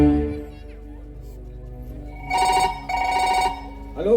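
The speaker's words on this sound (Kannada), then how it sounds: "ಆ ಬಡ್ಡಿ ಮಗ ರುದ್ರನಿಗೂ ಇದೇ ರೀತಿಯಲ್ಲಿ ಫೋನ್ ಹಚ್ಚು." A telephone rings in two bursts of bright electronic trilling, heard during a Kannada comedy stage play, with a voice speaking at the start and a brief vocal sound at the end.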